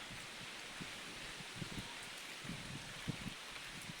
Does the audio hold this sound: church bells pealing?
no